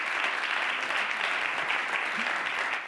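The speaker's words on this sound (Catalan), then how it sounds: "un aplaudiment" Steady applause from an audience at a chamber music award ceremony, dense and continuous clapping at even loudness throughout, with no voices standing out.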